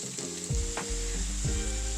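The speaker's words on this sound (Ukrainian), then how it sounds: "Бачите, коли наша фасолька починає отак от трошки ужарюватися" Cut green beans sizzle steadily in a covered pan, a constant bright frying hiss with a few soft knocks and thuds as the lid or pan shifts, no voices.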